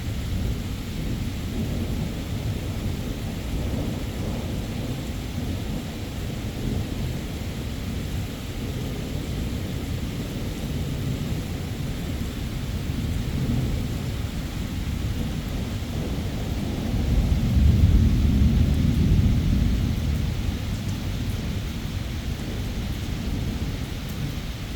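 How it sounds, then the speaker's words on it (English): An evening thunderstorm with steady rain and deep rumbling thunder throughout, the rumbles swelling louder and closer near the end; no voices. "Lots of thunder."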